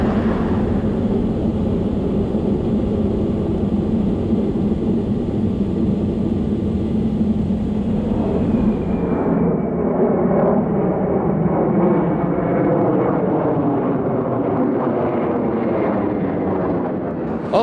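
A Concorde airliner climbs just after takeoff with a loud, continuous jet roar heard up close, its broad rumble holding steady while a faint tone slowly slides downward.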